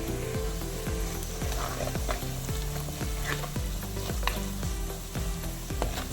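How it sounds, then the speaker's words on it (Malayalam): Turmeric and chilli powder being mixed into masala frying in oil: a continuous loud sizzle with a regular rhythm of spoon strokes scraping the pan, repeating many times over several seconds. "നന്നായിട്ട് മിക്സ് ചെയ്യാം."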